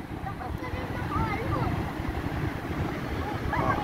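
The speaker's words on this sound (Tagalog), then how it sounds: "ang lakas ng hangin" Strong wind buffets the microphone in a continuous low rumble, with faint voices barely audible underneath.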